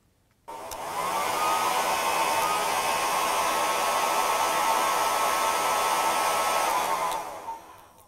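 A hair dryer blows air steadily over a folded paper wing profile, switching on abruptly, holding a loud, even broadband whoosh with a faint tonal whine for about six seconds, then cutting off.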